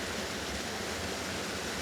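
Water pours into a lock on the Grand Canal as it fills, a steady rushing roar like a small waterfall, close and continuous with no voices.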